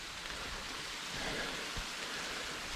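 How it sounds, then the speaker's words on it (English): Soft, steady rainfall patters as a faint hiss, with a few light drops tapping close by. "It's raining again, as you might be able to hear."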